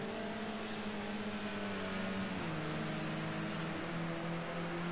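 A BMW touring car racing past on a circuit, engine tone droning steadily and shifting pitch midway, heard at a distance over a constant hiss of crowd and wind noise.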